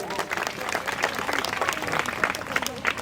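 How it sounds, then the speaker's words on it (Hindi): An audience applauds contributors after a stage play performance, with brisk steady clapping filling the whole moment at moderate loudness. "जोरदार तालियां सबके लिए हो जाएं।"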